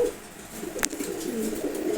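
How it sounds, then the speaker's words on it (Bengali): Racer Giribaz pigeons coo softly in a loft, with low murmuring coos and a sharp brief sound in the middle, with no talking. "এটা হচ্ছে রেসার গিরিবাজ দেখেন মাসাল্লাহ খুবই সুন্দর একটা কবুতর"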